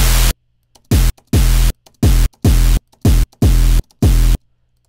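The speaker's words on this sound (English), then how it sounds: "now we have the 808 and the white noise playing over top of each other." An 808 bass layered with white noise plays in about eight loud, sharp-edged bursts of varying length, each a deep booming tone under a bright hiss, separated by short gaps with a faint low hum.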